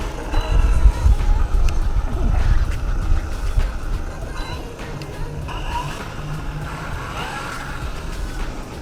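Arrma Infraction V2 RC car on a test run, its electric motor whirring and revving up and down close by, with tire rumble and a strong low burst early on before it settles into a steadier drone.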